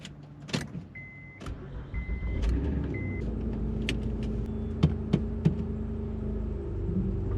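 A homemade Honda van-truck conversion starts and pulls away, its engine rumbling steadily from inside the cab, with a few short electronic chimes and some sharp clicks and clunks.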